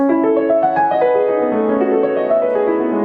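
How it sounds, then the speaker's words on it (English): Sustained piano chords ringing together under one long held sustain pedal, notes blurring and overlapping into a continuous wash, moderately loud and close. "If I just use one long pedal,"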